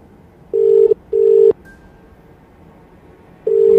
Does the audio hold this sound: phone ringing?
yes